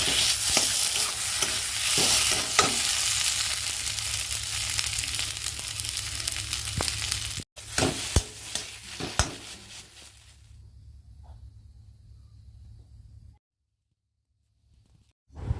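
Mashed taro paste (kochu bata) fries in oil, a steady close sizzle with occasional stirring clicks that cuts off partway through and leaves a faint hum, then near silence.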